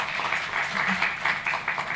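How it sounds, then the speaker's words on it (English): Audience applause at the Regional Abilympics conference at IIT Madras: a soft, steady spatter of clapping from a moderately distant crowd, holding an even texture for about two seconds with slight swells, with no talk over it. "So we can clap for Professor Kamakoti ji."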